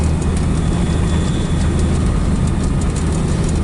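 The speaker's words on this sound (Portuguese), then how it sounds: "barulhinho de rolamento" A 1974 Dodge Coronado, an Argentine Mopar, rolling along with loud, steady low road and drivetrain rumble and a faint hum of wheel bearings running through it, unbroken for the whole stretch and with no talking.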